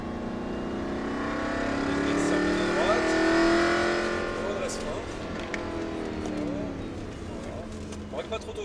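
Race car engine accelerating hard toward the rev limiter on a circuit lap, a loud sustained rising roar that swells then eases, with a person talking over it.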